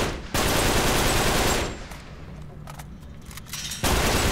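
Sustained automatic gunfire in Uncharted 3, a loud continuous burst of rapid shots for over a second, then quieter scattered shots and a fresh loud burst at the end.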